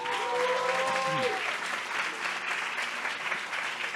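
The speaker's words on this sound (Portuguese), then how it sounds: "os montadores também merecem o nosso aplauso." A crowd at a São Paulo book fair applauds the fair's assemblers with steady, dense clapping that fills the whole stretch at an even, loud level.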